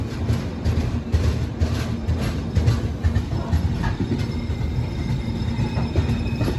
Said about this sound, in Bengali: কামাখ্যা জংশন থেকে একসাথে যাত্রা শুরু করলো কামাখ্যা আনন্দ বিহার এক্সপ্রেস আর সরাইঘাট এক্সপ্রেস।